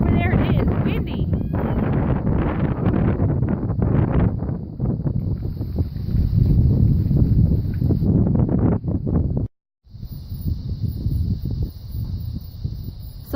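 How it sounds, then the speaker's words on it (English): Strong easterly wind sweeps through trees at a pole barn site on a blustery day, a loud continuous roar and rustle with microphone buffeting and one brief dropout. "Look at these trees blow."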